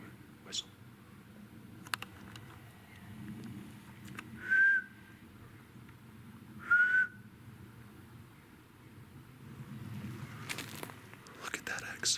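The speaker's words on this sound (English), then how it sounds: "Whistle." A person whistles in woods around a tee pee: two short clear rising whistles a couple of seconds apart, moderately close, over steady outdoor ambience with a few faint knocks and rustles.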